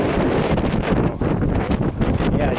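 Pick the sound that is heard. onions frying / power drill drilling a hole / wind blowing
wind blowing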